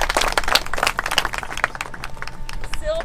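Audience applause breaks out for Debra at a Rotary garden gathering at Grand Oak Elementary School, with dense, steady clapping close by and scattered voices mixed in.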